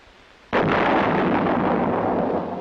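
An 8-inch M110 self-propelled howitzer of the Vietnam era fires a single loud, close blast that opens into a long rolling rumble and echo, slowly fading.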